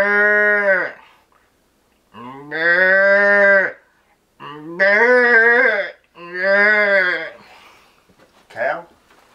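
A man imitates a calf with four long, drawn-out bawling calls separated by short pauses, loud and close, ending with a brief shorter cry.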